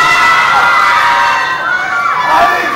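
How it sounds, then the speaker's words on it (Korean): A large live audience cheers and shouts loudly at a stage event, a dense, sustained roar of many voices that holds steady throughout with no single speaker standing out. "もうものすごい歓声ですよ。"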